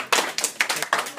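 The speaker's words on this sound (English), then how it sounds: "Let's all clap at Amber." A class claps for a student in a math lesson, a brief burst of several quick overlapping clapping hands, close and fairly loud, with no speech in between.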